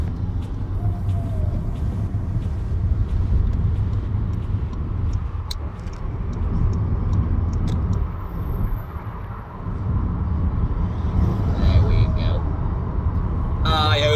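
A new six-gear car drives along a motorway, a continuous low road and engine rumble filling the cabin from start to finish at an even level.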